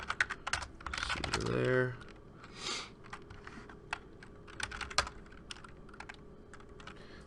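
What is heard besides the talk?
typing on a computer keyboard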